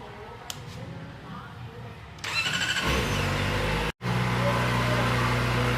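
Kawasaki ZX-4RR motorcycle engine turning over on a cold start, a steady loud mid-pitched idle that picks up sharply after a couple of seconds and holds, with a brief cut near the end.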